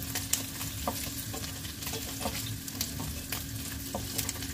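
Paneer pieces frying in a pan while being turned and stirred produce a steady, even sizzle with intermittent scraping and light tapping from the utensil, close and uninterrupted by speech.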